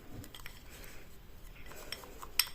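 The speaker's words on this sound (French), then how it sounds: "après je mélange le sucre avec le sirop" A spoon clinks and scrapes faintly against a dish while sugar is stirred into grenadine syrup, with soft irregular taps and one sharper clink near the end, close but quiet.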